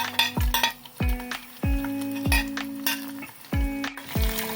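Garlic is stirred in a pan with lentils, each pass of a metal spoon giving a ringing clink over a low sizzle. Roughly six distinct strikes fall at uneven intervals, close and clear, with no talking.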